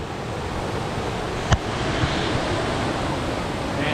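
A waterfall on a hillside campground trail roars as a steady, broad wash of rushing water, continuous and moderately near, with one brief sharp knock partway through and no talking.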